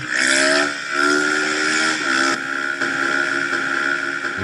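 A motorcycle revving hard for a wheelie: a loud, close, high-pitched engine roar that climbs, dips and holds steady at high revs, with no talk over it.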